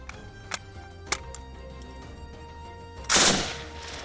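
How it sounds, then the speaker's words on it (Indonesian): Live-ammunition gunfire during Indonesian Navy Kopaska special forces training: two or three light, distant shots, then a single loud, close blast that dies away over a steady background hum. "semuanya dilakukan dengan peluru serta bom sungguhan"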